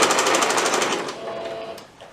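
A sewing machine runs a quick burst of rapid, evenly spaced stitches through fabric for a plush teddy-bear comforter, loud and close, then slows and stops after about a second.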